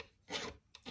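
Frets on a Yamaha Compass Series 12-string guitar being sanded during a refret: two short, quiet rasping strokes of abrasive across metal, near and alone.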